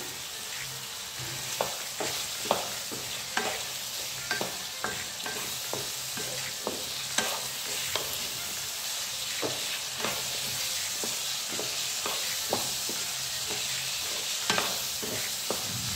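Mixed vegetables frying for a lapsi (broken wheat) breakfast dish, with a spoon scraping and stirring the pan in a steady, irregular rhythm of sharp clicks over a continuous close hiss of sizzling.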